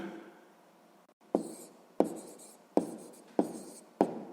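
Pen or pencil strokes on paper while working a sixth-grade math exercise: five sharp, evenly spaced scratches about every 0.7 seconds, close and fairly quiet, each fading quickly.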